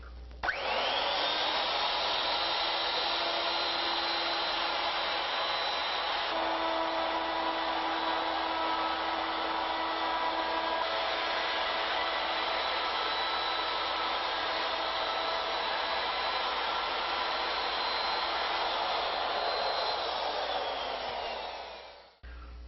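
A router fitted with a 1-inch rope molding bit cuts a three-start rope pattern into a cane handle, a loud steady high whine that holds for about twenty seconds before spinning down, with no talk.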